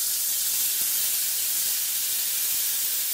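Stuffed brinjal in hot oil, a loud, dense and continuous sizzle that stays even and close throughout.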